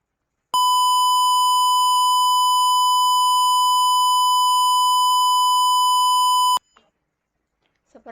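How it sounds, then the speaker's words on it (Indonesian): A single steady electronic beep tone from a microcontroller distance-sensor buzzer, triggered by an object under 25 cm, holds for about six seconds, loud and continuous, then cuts off, followed by faint brief clicks. "objek yang terdeteksinya kurang dari 25 cm, maka buzzer akan nyala atau berbunyi"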